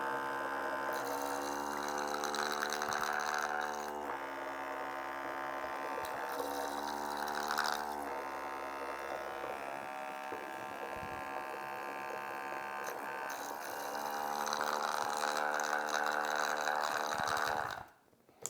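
Compact, miniature espresso machine running its cleaning cycle, its pump humming and buzzing steadily as water passes through for about seventeen seconds, with two brief dips before the motor cuts off near the end.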